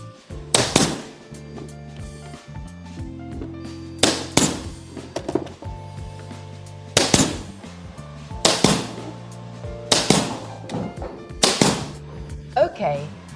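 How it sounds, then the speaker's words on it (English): A staple gun driving staples into an old cupboard panel: about eight loud, sharp snapping shots at irregular intervals, close up, over background music. "For convenience, I use a staple gun"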